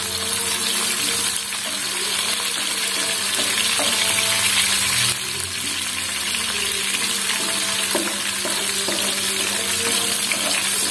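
Green onions sautéing in a pan make a loud, continuous close hiss of frying oil with faint scrapes and clinks of stirring running throughout, and no one speaks.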